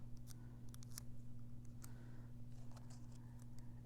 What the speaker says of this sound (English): so I'm going to cut it again.